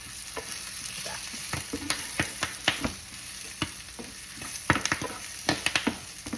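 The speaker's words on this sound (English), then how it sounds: "Hear it popping? Pop, pop, pop, pop." Shrimp searing in a hot pan sizzles with a dense, steady hiss, broken by a quick scatter of sharp crackles and pops, near and fairly loud, with no talking.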